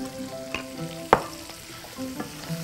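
A frying pasta sauce seasoned with salt and pepper is stirred in a pan, a soft sizzle with a few sharp utensil scrapes and knocks, one louder clack near the middle, close and brief.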